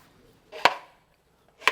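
Two sharp wooden knocks from a doll carried on a person's back, about a second apart, close and fairly quiet, with near silence between them.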